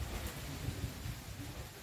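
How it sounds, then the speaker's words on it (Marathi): Unseasonal rain begins in a cold wind as the power goes out, giving a faint, continuous rushing wash with soft low rumbles and no speech. "पाऊस झालाय सुरू, थोडा थोडा थेंब थेंब थेंब थेंब पाऊस यायलाय"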